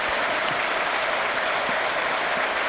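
A football crowd at a Sunderland home match applauds Chris Rigg as he is substituted, a dense, steady wash of clapping from a large stadium audience that runs unbroken.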